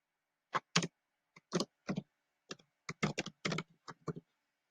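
Rapid typing on a computer keyboard, close and clear, in quick bursts of keystrokes separated by short pauses, with no talking.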